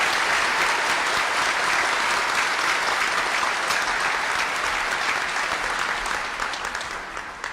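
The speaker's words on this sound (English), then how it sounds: "a big round of applause" Steady, dense applause from a large audience at a naturalization ceremony for new U.S. citizens, loud and continuous for several seconds before beginning to thin out at the end.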